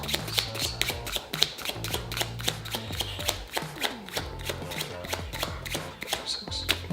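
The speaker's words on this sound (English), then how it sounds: "I'm gonna run 26 cards." A deck of playing cards being run and shuffled by hand, a rapid string of crisp riffling snaps and flicks in an uneven rhythm, close and clear with no talking.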